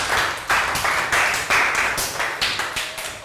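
Classroom applause for a pupil during a Year 3 maths lesson, a short burst of rhythmic, fairly loud clapping in repeated pulses with no talk.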